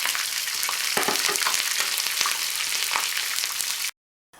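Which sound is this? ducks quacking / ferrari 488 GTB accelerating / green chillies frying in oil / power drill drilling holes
green chillies frying in oil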